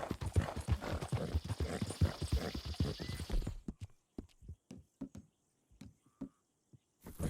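Hooves of a Tobiano American Paint horse in Red Dead Redemption, a quick clip-clop rhythm at a trot that slows to sparse, separate footfalls on hard ground, close and clear.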